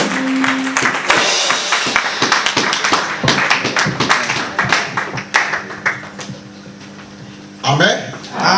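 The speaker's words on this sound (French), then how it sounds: "Nous allons applaudir." A church congregation claps during a service, a stretch of dense, uneven hand clapping that thins toward the end, with voices and singing mixed in.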